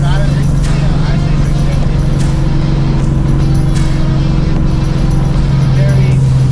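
A very quick car putting out around 650 horsepower drones steadily up close, its low engine tone constant throughout with faint higher whines and light clicks above it.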